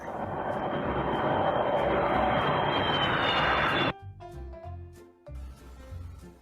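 A fixed-wing airplane roars past with a loud, broad engine drone for several seconds, then cuts off abruptly into quieter tonal sounds.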